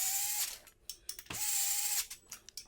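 A power ratchet tightens the bolts on the legs of an office furniture base in short bursts of buzzing whir broken up by clicks and pauses. It is close and fairly quiet, and no one speaks.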